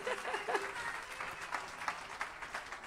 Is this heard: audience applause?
yes